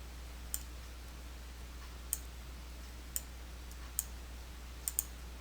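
Sparse, crisp computer mouse clicks while working in QuickBooks Desktop Pro 2021, about six sharp isolated taps spaced irregularly over a quiet, faintly humming room.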